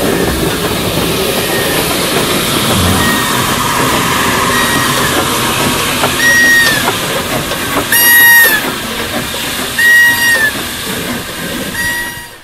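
A heritage train at Beddgelert station rumbles and clanks along the platform, with wheels squealing in short high-pitched bursts toward the end and a steady mechanical roar underneath.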